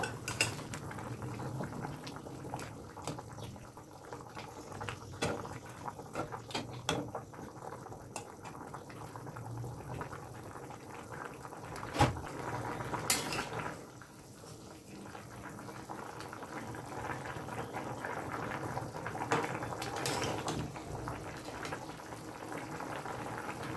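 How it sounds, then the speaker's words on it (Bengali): A pot of thin fish curry with seeded banana and sweet potato bubbling on the stove as fried fish pieces go in, with steady simmering and occasional clinks of utensils against the pot, no talking. "তরকারি ফুটে উঠেছে এবার ভেজে রাখা মাছগুলো দিয়ে দেবো"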